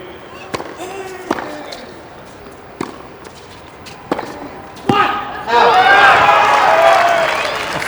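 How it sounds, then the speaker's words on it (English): Applause from a tennis crowd at the US Open comes in as a loud, sustained roar of clapping. Several sharp ball hits and thuds come first, spaced through a quieter stretch. "Yeah, you earned that applause."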